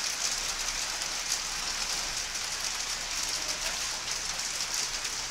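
Steady rain falls in Darjeeling, a dense hiss of drops on surfaces that stays even and close for several seconds with no voices.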